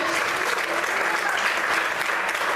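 Steady applause from a church congregation clapping for the Lord during a Portuguese-language sermon, dense and continuous at an even level throughout.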